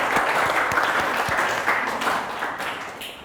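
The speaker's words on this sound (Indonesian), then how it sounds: "tepuk tangan dulu untuk kita semua." A classroom of students applauds together, a steady burst of clapping that fills the room at close range and tapers off slightly toward the end.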